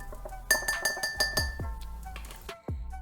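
Baking soda tipped from a quarter teaspoon into a drinking glass, with a quick series of bright glass clinks and ringing taps as the spoon strikes the rim, close and alone.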